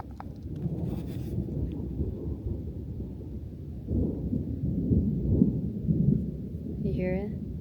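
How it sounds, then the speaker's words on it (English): Low thunder rumbles rolling in the distance over rural Arizona land, swelling and fading over several seconds, with faint outdoor background noise. "Oh, here comes the thunder again."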